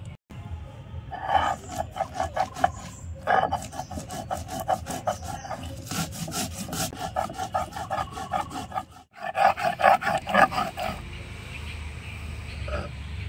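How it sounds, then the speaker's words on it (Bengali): Poppy seeds, salt, green chili and a little water are ground into a fine paste on a stone grinder, giving a rhythmic gritty rasping scrape in repeated strokes, close by, with a short pause before the strokes resume. "মশলাটা আমি একদম মিহি করে বেটে নিয়েছি"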